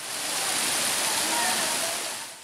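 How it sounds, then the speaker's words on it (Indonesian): The Tirta Rimba waterfall on Buton island near Baubau pours in a steady, even rush of falling water. The flow is moderate rather than torrential and sounds close and constant. "aliran air terjun ini tidak terlalu deras sehingga sangat aman"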